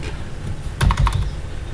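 A short burst of about five quick keystrokes on a computer keyboard, close and crisp, rising above a steady room hiss with no talking.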